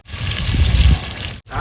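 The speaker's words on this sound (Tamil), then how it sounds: "3 டம்ளர் ஊற்றிக்கிறேன் நான் தண்ணி." Water poured from a tumbler into a large cooking pot while preparing rice, a loud splashing gush lasting about a second and a half, stopping briefly before a little more trickles in.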